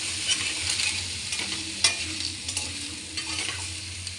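Vegetables with salt and turmeric sizzle in a pan while a spatula stirs and scrapes them, producing close, irregular clinks and scuffs over a steady frying hiss.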